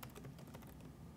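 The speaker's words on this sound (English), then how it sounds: "I'm going to go ahead and just type everything up" Rapid keystrokes on a computer keyboard while entering setup details into survey software, a quick run of close, clicky taps over a low steady background hum.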